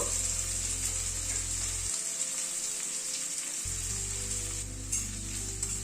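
Onions fry slowly in a pan over a medium gas flame, a close, steady sizzle with stirring scrapes over a low hum from the burner that briefly drops out.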